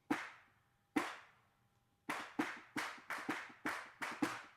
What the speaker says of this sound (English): we have what's called a hand clap